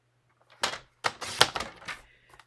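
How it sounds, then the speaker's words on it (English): A small piece of paper for a card is cut in a few crisp, close snips, spaced about half a second apart, in an otherwise quiet room with no talking. "So I'm going to cut that off right now."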